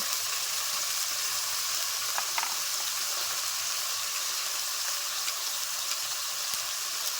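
Water with cumin, coriander and dried chilli powders hits a hot pan while cooking a Bengali katla fish and potato curry, giving a steady, loud, bright sizzle that runs unbroken throughout with no talking.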